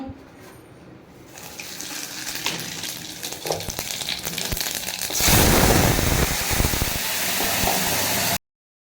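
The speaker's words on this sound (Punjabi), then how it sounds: "ਤੇਲ ਗਰਮ ਹੋ ਗਿਆ ਆਪਣਾ ਐਨ ਔਰ ਇਹਦੇ ਵਿੱਚ ਮੈਂ ਲਈ ਆ ਜਮੈਣ ਜੀਰਾ ਔਰ ਕੜੀ ਪੱਤਾ ਇਹਦਾ ਤੜਕਾ ਲਾਵਾਂਗੇ" Carom seeds, cumin and curry leaves hit hot oil for a tempering, starting as a quiet hiss and swelling midway into a loud, steady crackling sizzle that runs until an abrupt stop.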